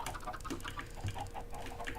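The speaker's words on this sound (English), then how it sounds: "Lots of chickens in here." Chickens in a Minecraft pen cluck softly in quick, overlapping bursts, a faint, busy chatter over a steady low background.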